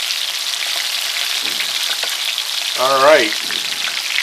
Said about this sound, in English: you want to sear the outside of it, and only for a second.